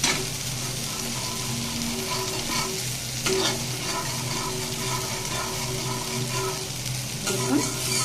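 Sesame paste and whole spices being stirred and fried in oil for taro greens, with a steady close sizzle and scraping strokes running throughout, plus a faint trickle of water in the background.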